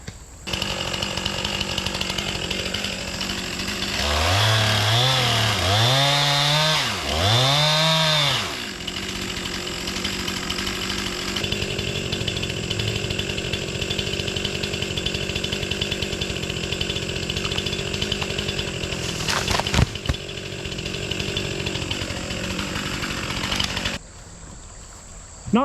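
Chainsaw cutting into a tree during hurricane cleanup, a close, loud, continuous engine whine that revs up and down in bursts before bogging into the wood and then cutting off near the end.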